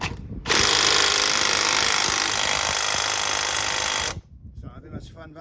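Power tool running on the 15 mm track rod end nut of a Ford Focus ST225, a loud, close, continuous hammering rattle lasting about four seconds before cutting off abruptly.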